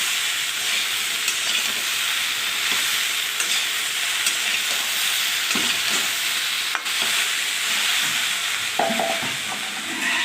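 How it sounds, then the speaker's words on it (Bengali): Raw banana sautéing in a pan with salt, turmeric and green chili, a continuous close, dense sizzle with faint stirring scrapes and occasional brief clicks, no voices. "এটা দিয়েও ভালো করে আমি কষিয়ে নেব"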